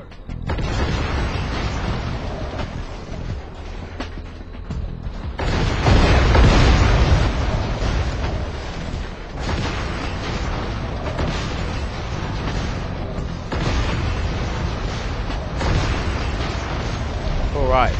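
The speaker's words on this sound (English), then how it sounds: "Distraction? Oh, the bombs." Bombs set as a distraction go off in SpyHunter: Nowhere to Run with deep booming blasts and a sustained roaring rumble. A louder explosion surges midway, and people talk over the noise.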